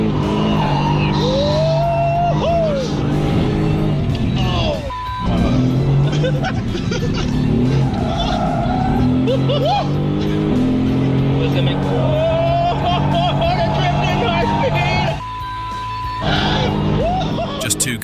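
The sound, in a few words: sports car skidding with traction control turned off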